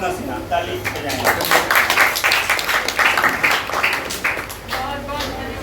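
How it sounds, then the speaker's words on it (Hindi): An audience at a Hindi poetry event applauds, a dense patter of many hands clapping near and loud for several seconds before it thins toward the end. "ताली बजाएंगे"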